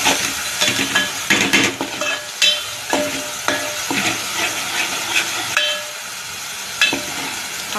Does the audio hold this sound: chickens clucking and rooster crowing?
no